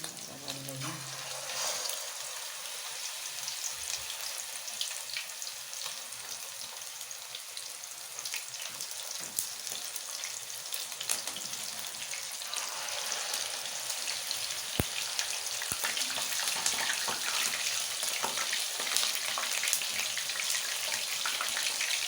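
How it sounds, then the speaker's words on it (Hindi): Seekh kababs fry in oil, giving a steady, fairly soft sizzle with fine crackling and popping that builds slightly as it goes on, with faint talk underneath. "देखिए नाज़रीन, मैं इसे फ्राई कर रही हूँ।"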